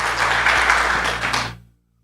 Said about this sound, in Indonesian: beri sorak-sorai tepuk tangan yang meriah